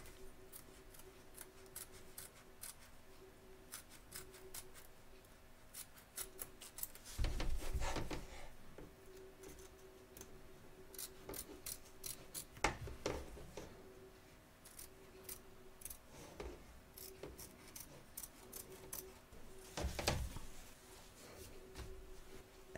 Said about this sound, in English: we're going to cut around the edge